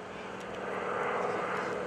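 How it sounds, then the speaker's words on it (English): A 450 horsepower Super Stearman biplane makes a photo pass at an airshow, its engine a steady broad roar that swells slightly as it draws nearer, with no voices over it. "Here comes a photo pass. Bill Gordon and the 450 horsepower Super Stearman."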